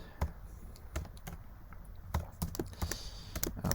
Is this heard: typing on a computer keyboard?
yes